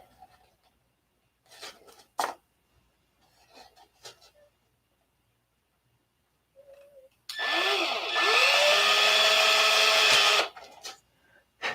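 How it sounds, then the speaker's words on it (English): A power drill cutting down through a small clip being shaped in a workshop, a loud close grinding whine lasting about three seconds, with quiet handling clicks and rustles before it. "you drill down through there."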